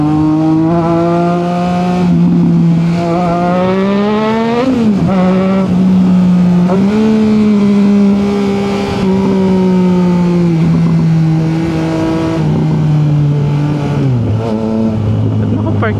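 City street traffic in BGC, heard from a Triumph Trident motorcycle, dominated by a loud, steady engine drone whose pitch rises and falls as the bike speeds up and slows, with a voice talking at times.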